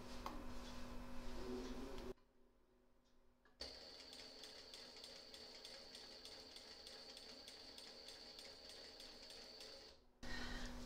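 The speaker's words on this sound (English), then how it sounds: "I'm now going to stitch along the crease line that I made here and join the two tails together" A sewing machine stitches along a pressed crease to join two binding tails, running steadily for about six seconds with a fast, even needle rhythm after a short pause.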